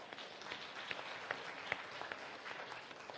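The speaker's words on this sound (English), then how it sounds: "Please give a round of applause to Professor Yannis." Faint, distant applause from an audience at a science and innovation panel, scattered clapping with a few sharper claps.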